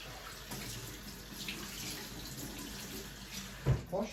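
Tap water running steadily into a sink while a juice filter is rinsed, a soft continuous hiss with a couple of brief clatters near the end.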